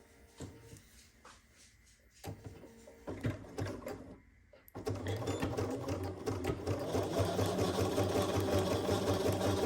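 A sewing machine runs in short starts and stops while stitching a quilt block, then settles into a long, steady, fast whirring run close by.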